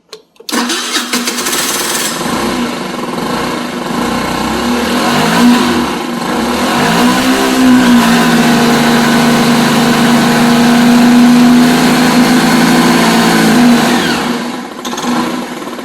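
A moped engine suspected of fuel starvation, with a nearly dry fuel filter, starts and runs loudly up close, its droning tone rising and wavering in pitch before settling into a steady hum and cutting out.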